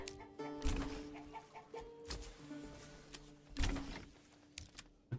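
Chickens in a coop in the medieval city-building game Manor Lords cluck in short, scattered bursts over a soft ambient bed, moderately close and fairly quiet, with no talking.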